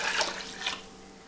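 Water pours into a cooking pot for pickled apples, a soft splashing rush that is fairly quiet and tapers off within about a second.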